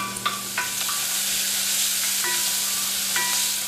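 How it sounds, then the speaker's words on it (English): Sliced bacon stirred and cooking in a pot for Southern-style black-eyed peas and turnip greens, giving a steady sizzle and frying hiss with a few scraping stir clicks near the start and later, up close and without talk. "We're just going to give this a stir, let it kind of cook, let the fat start to release"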